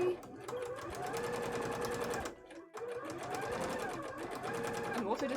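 Sewing machine stitching a thin seam on a cosplay bodice insert, a close, loud steady whirring run with one brief pause midway, while a person talks over it.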